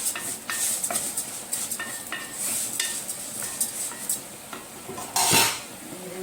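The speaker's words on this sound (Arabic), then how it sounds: "نقلب الصلصه مع بعض." Tomato sauce for koshari stirred in a pan, with repeated scraping strokes and metallic clinks of a spoon against the pot over a low background sizzle.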